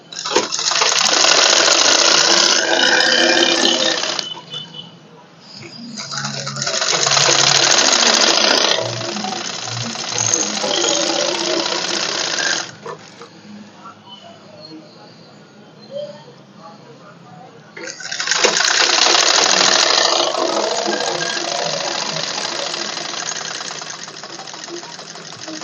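A sewing machine runs in several loud bursts, stitching a suit collar, with pauses between runs.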